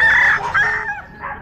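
A rooster crows once, loud and close, with a chicken clucking at the end.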